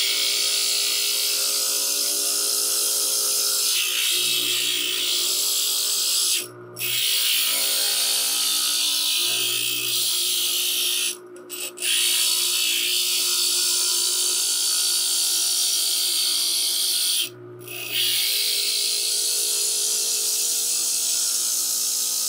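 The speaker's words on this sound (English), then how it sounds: "put on this piece of glass hitting the wheel, the more it's going to grind off" Glass grinder wheel grinding the edges of a glass piece, a steady high whirring hiss that runs continuously through the clip with a few brief dropouts where the glass lifts off the wheel.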